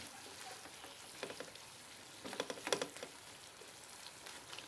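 Beef and onions fry in a pan with a soft, steady sizzle and crackle, broken by a few louder spattering pops and stirring sounds.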